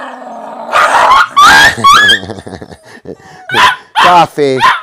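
A dog barks loudly and repeatedly up close, with sharp yelps and a few growly, whiny notes between the barks.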